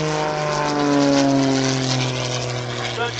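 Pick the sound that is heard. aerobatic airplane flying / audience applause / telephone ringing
aerobatic airplane flying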